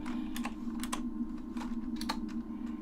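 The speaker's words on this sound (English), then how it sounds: "Let me just type it up." Fingers tap a computer keyboard in short irregular bursts of light clicks, close and fairly quiet, over a steady electrical hum from a PC being set up for GPU overclocking.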